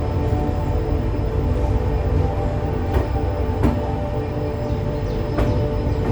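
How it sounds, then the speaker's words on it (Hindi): A train pulls out of Mangaluru Junction with a steady, loud rolling rumble and a few sharp rail clicks, heard from on board with no talking. "अभी समय हो रहा है 9:15 और हम डिपार्ट कर रहे हैं मैंगलुरु जंक्शन से"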